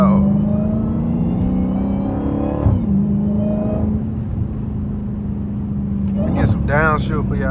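A straight-piped Dodge Hellcat Redeye rumbles and revs from inside the car, its engine note rising and falling over several seconds, with someone talking over it.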